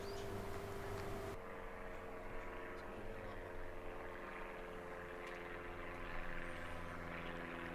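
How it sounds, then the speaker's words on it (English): An aeroplane passes overhead as a steady, broad engine drone, moderately distant and continuous, with no talk over it. "it's just great when a aeroplane decides to go overhead and then we have to stop"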